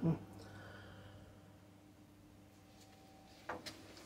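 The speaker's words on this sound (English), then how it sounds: "Slam shut door catch." A stainless steel parts washer cabinet door on a HydroMAX 750 hot citrus degreaser slams shut onto its catch with a sharp, close thud at the start, then a quieter knock follows a few seconds later.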